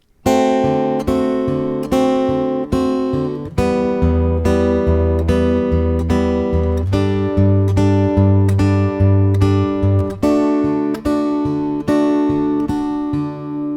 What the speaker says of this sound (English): So the last 4 chords of the bridge would sound like this.